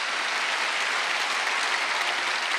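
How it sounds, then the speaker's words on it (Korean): Church congregation clapping during a Wednesday worship service, a continuous, evenly dense burst of applause with no voices over it. "박수 한번 치세요."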